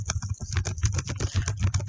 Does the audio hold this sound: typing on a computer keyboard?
yes